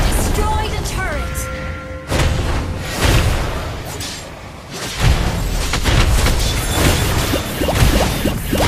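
Mobile Legends battle sounds with a turret being destroyed: sharp crashes and booming impacts rise around the middle and later, layered over dense game effects and a short announcer voice near the start.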